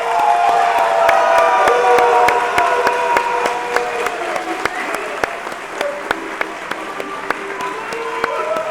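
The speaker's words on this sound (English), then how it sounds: "Please join me in thanking this group with a round of applause." A round of applause from the audience at a postsecondary diploma graduation ceremony, sustained crowd clapping with a few cheers and whoops and some sharp individual claps, loud and continuous.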